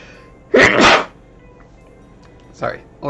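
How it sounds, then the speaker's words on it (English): Someone allergic to cats and horses lets out a loud, close sneeze lasting about half a second, followed after a pause by a second, sharper sneeze and the start of another, indoors with little background noise. "Sorry, allergic to cats, which is one sneeze, horses, which is the other sneeze."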